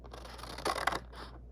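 A brief burst of scissors snipping through paper, a couple of crisp close cuts over a faint steady hum.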